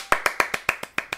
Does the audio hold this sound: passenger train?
no